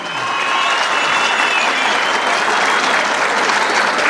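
A large crowd in a rodeo plaza applauding at a bull riding tournament, loud dense clapping and cheering that holds steady throughout.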